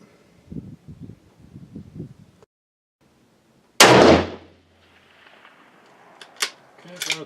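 A single loud gunshot cracks sharply as a test shot fires over a Lab Radar chronograph outdoors, followed by a short ringing decay, with quieter low murmuring before and a couple of faint distant bangs after.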